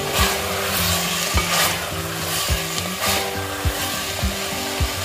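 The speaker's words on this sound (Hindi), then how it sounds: "अब हम टमाटर भी डाल देंगे।" Chopped tomatoes go into vegetables, carrots and peas among them, frying over medium heat for pulao, with a steady loud sizzle and repeated scraping stirs of a spoon across the pan.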